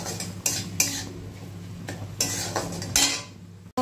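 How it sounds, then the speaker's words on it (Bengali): Spice masala sautéed on a low flame in a pan for a fish curry, heard as metal spoon scrapes and clinks against the pan recurring at irregular intervals over a faint, steady low-heat sizzle. "এর জন্য আমি লো ফ্লেমেই মশলাটা কষিয়ে নেব"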